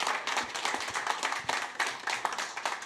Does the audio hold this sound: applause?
yes